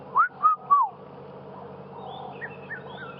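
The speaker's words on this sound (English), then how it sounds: "It's called a red-chested cuckoo." A red-chested cuckoo gives three clear, rising whistled notes in quick succession, loud and fairly near, then faint distant bird chirps continue over a low steady background hum.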